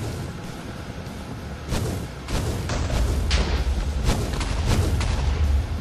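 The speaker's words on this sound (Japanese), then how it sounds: "次にロケット弾を撃ってみましょう。" Rocket launcher in a modded Minecraft world firing and exploding, a run of loud booming blasts that stack into continuous rumbling bursts after a quieter opening.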